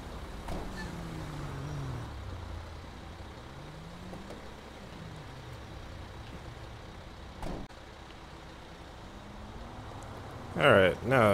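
A heavy wrecker tow truck driving through tight city streets in GTA 5, a low engine drone rising and falling with gear changes, a sharp air-brake hiss near the end, and a voice talking over it.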